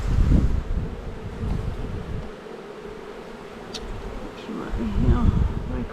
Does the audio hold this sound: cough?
no